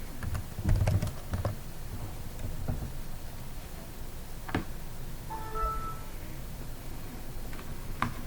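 Computer keyboard keys tapped while entering a password, a handful of soft scattered clicks, close but faint over a quiet background hiss, no talking.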